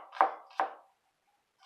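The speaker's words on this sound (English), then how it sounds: "just finish the rest of the chop that way" Three sharp, close knife strikes on a cutting board while chopping an onion, two in quick succession, then a pause before the third.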